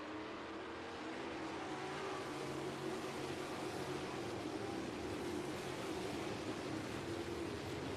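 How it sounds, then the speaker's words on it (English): Race car engines roar at a speedway on a Friday night, a dense, steady drone of many motors running continuously at a distance, with no talk over it. "Boy, there's a lot of ill-sounding engines out there."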